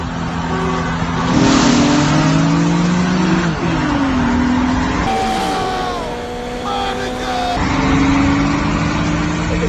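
An Infiniti G35 and a second car race side by side, engines revving hard and accelerating through gear shifts, with tires briefly squealing; loud, close and continuous for the whole stretch.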